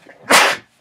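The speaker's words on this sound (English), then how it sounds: "I'm going to sneeze. Pardon me." A single loud, close sneeze with a short breathy lead-in, heard alone with no talking in a classroom art setting.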